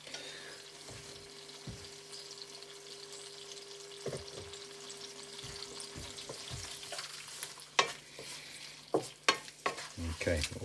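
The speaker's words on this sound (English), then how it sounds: "Okay, that's back up and sizzling" Char siu lo mein ingredients stir-fried in a pan on a plug-in hob, a soft steady sizzle with a faint hum, followed by louder scraping and clattering stirring strokes.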